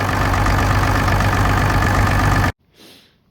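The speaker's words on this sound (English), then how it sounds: "we've seen the old tractor running, and she's still got this chitter and fluffiness in the pipe" An old County crawler tractor's engine runs steadily at idle, a loud, continuous mechanical drone with a rough chitter from the exhaust pipe, then cuts off abruptly, leaving a short faint rustle.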